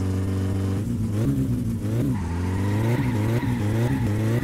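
Car engine in the video game My Summer Car revving hard at a drag race start, a loud continuous roar whose pitch rises and drops through several surges, with tire scrabble underneath.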